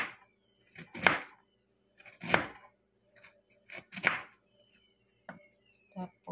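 Knife chopping through peeled ginger on a cutting board, a few sharp thuds spaced about a second apart, then quicker lighter cuts, close and clear with no talking.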